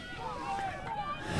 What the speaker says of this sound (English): it is really windy up here now